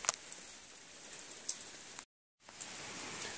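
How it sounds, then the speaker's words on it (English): Rain falling during a hike under a pavilion, a soft steady patter with scattered drips and light ticks, faint and continuous with a brief gap. "Taking a break under the pavilion while the rain begins to pick up."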